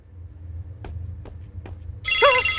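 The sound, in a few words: double phone ringtone, rotary phone ring, from horror video game The Bridge Curse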